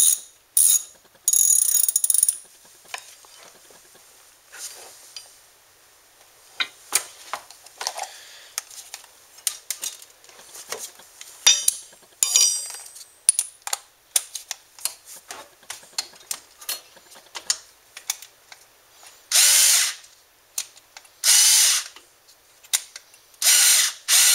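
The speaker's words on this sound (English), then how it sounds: "Okay, tightening the slide bolt." A hand ratchet tightens a brake caliper slide bolt on a Ford Focus, giving rapid clicking bursts with short pauses, sharp and close, alone without speech.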